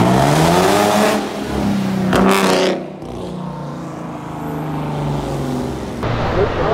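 An S7 4x4 V8 turbo car revs hard with throaty harmonic engine roar, bursts of acceleration and gear changes as it pulls away, loud and close.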